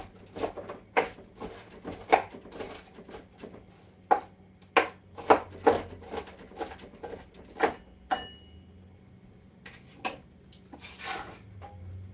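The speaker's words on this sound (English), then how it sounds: "we're just rough chopping, guys" A knife chops onion on a board in irregular sharp knocks, about twenty strikes with brief pauses, close and fairly loud.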